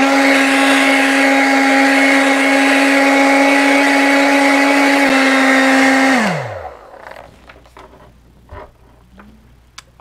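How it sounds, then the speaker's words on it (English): A hair dryer drying acrylic paint runs with a steady, loud whine and airy roar for about six seconds, then spins down and stops, leaving faint clicks and small handling sounds. "I'm going to grab my hair dryer"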